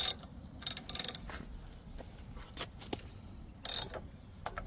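A left-hand threaded electric bike power pedal is tightened with a ratchet, giving short bursts of clicking pawl ratcheting between quiet pauses and small metallic taps, close and alone.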